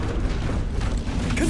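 Bombarda spell blast from the Hogwarts Legacy video game, a dense rumbling burst with creaking, grinding debris, loud and close, sustained through a short moment without talk.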